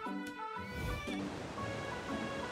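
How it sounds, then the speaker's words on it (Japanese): A waterfall in ARK Survival Evolved pours as a continuous broadband rush, with a few tonal game sounds layered over it at the start, steady and fairly soft. "滝だ。"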